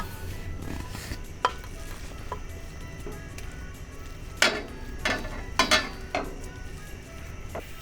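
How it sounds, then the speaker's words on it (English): Ground beef fries in a pan with a little olive oil, giving a steady low sizzle under occasional scrapes and clinks of a utensil against the pan. "I'm going to add the ground beef."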